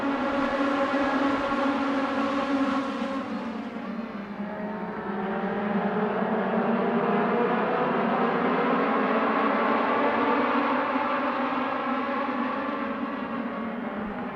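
Race cars at the Las Vegas Bullring short track accelerating together at the green flag, a loud sustained multi-engine roar with pitch rising and shifting as the pack pulls away and laps on.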